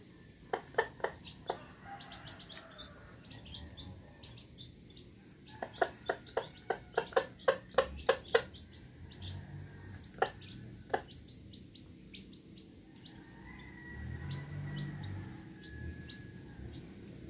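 A mother hen and her newly hatched chicks chirp in quick high peeps, clustered in bursts and then sparse, fairly faint against soft background rustling and low noise.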